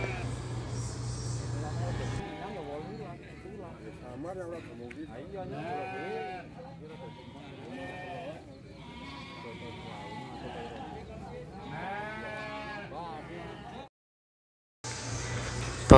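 Sheep bleating, heard among sheep for sale at an animal market or from a breeder, with wavering calls that come and go under steady spoken narration.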